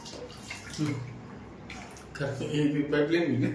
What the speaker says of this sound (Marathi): गरम पाणी आलं